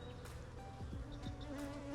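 Honeybees buzzing around a light hive frame while bringing in pollen, a faint, continuous droning hum with individual bees passing close.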